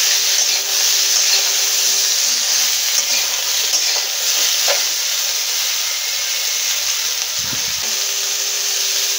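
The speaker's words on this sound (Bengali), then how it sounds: "কেটে রাখা আলুগুলো ভেজে নেব কপির সাথে" Cauliflower and potatoes frying in oil in a pan give a steady, close sizzle and hiss that carries on unbroken, with a soft clink near the end and no voices.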